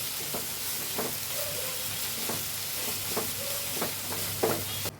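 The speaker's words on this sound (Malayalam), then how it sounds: "കുറച്ച് ഉപ്പുപൊടി ഇട്ട് കൊടുക്കുന്നുണ്ട് ഒന്ന് ഇളക്കി കൊടുക്കട്ടെ" Red amaranth stir-fry seasoned with salt being turned in a pan: a steady sizzle with regular spoon scrapes and taps about once a second, close and continuous.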